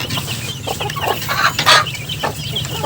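Hens cluck in short bursts, several birds close by, with a faint murmur of other farmyard sounds around them.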